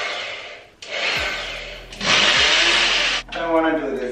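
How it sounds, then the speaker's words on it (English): A power drill drilling overhead into a ceiling whirs in several bursts, stopping and restarting, its high whine near and loud, with brief pauses between runs. "we have to start drilling now"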